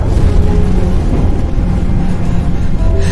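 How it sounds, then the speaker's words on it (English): Explosion in Starfield as a surface blast pushes an asteroid field toward a ship, heard as a heavy, sustained low rumble that stays loud and steady throughout, with no voices over it. "The explosion from the surface pushed the asteroid field right at us"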